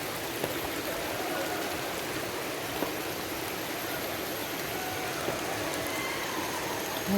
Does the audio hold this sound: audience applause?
no